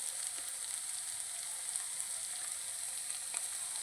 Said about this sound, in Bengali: আদা রসুনটা আমার ভাজা ভাজা হয়ে গেছে প্রায়